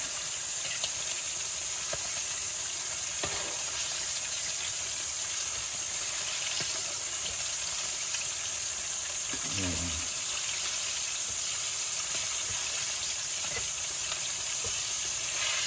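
Steady, loud sizzling of chicken frying in overly hot oil over a strong flame, a constant crackling hiss with occasional soft clatters of stirring.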